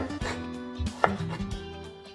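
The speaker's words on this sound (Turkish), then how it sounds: "Havuçlarımı da biraz patatesin formuna yakın bir şekilde küp küp doğrayacağım." A knife dices carrots into cubes on a cutting board, giving a quick run of sharp, close chopping knocks.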